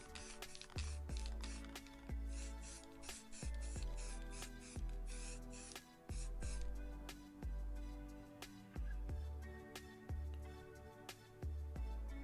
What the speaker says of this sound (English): I decided to give all these little tools a coat of black spray paint.